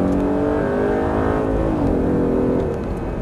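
A car engine revs hard and steadily under throttle, its pitch climbing, dipping briefly, then rising again, loud and close.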